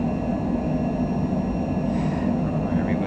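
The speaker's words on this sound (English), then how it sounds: "Touch front, flaps 2, flaps 1, full thrust" Cessna Longitude business jet engines spooling at full thrust for takeoff, a loud continuous roar with steady broadband rush and low rumble, heard from inside and unbroken across three seconds.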